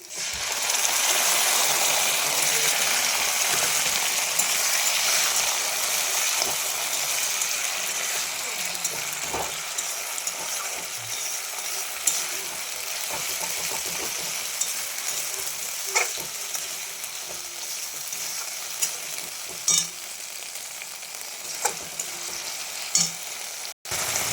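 Browned onions sizzle and crackle steadily in a hot pan as ginger, garlic and cumin paste is added for a goat meat curry, with stirring scrapes and taps breaking through the constant frying hiss.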